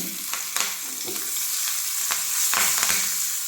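Curry leaves and asafoetida sizzle in hot oil during tempering, giving a steady close frying hiss with sharp crackling pops and spatters scattered throughout.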